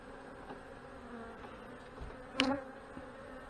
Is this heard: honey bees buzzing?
yes